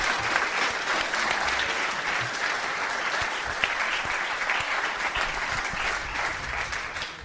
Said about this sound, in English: we've got to give Matt a big round of applause for the Birdman